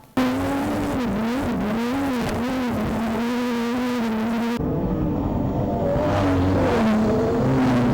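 Modified production race cars racing at Carina Speedway, a loud distorted engine roar rising and falling as cars power through the turns, with a shift in tone partway through as another car passes close by.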